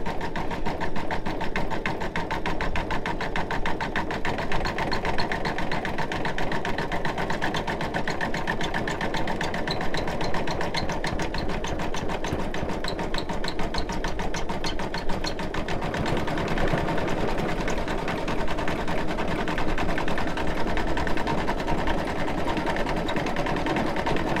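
A Brother embroidery machine stitches a sun design, its needle hammering in a rapid, steady mechanical rhythm close by, with a constant motor whir that runs unbroken and loud throughout, no voices present.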